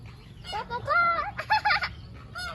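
Chickens at a children's petting farm give a few short, close clucks and squawks in quick succession, with people's voices mixed in.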